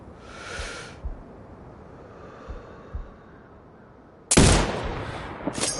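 Sniper rifle shot in the video game Sniper Ghost Warrior Contracts 2 on PS5: quiet breathing-like hiss and soft thumps, then one sudden loud, sharp blast with a hissing tail near the end.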